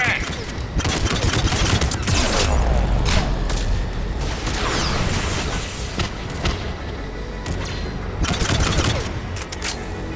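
Missiles firing during an air-support sequence in the video game Mass Effect 3, a dense barrage of loud whooshing launches and booming blasts over several seconds, with no speech heard.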